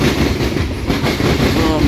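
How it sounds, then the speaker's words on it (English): A loaded coal train rolls past on dry, dusty track near a diamond crossing, loud close rumble with wheel clatter, continuous throughout. "as this coal train is clearing up"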